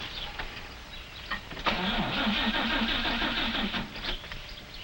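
An old car engine sputters and labors as it runs out of gas, a rough, uneven mid-pitched chugging that starts abruptly and continues near and steady without any talk.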